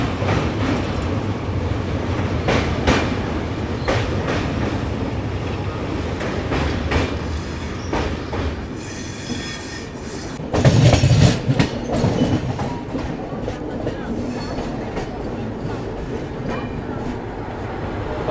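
The Garib Rath Express runs through the Kasara ghat section, its wheels clattering in a steady rhythm with squeals and louder bursts of rail noise throughout, close and continuous.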